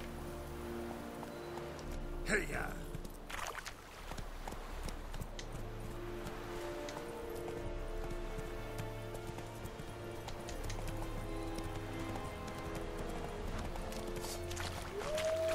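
Horse hooves clip-clop steadily in The Witcher 3 as the horse comes up out of water, a running rhythm under ambient game sound and background music, with brief speech.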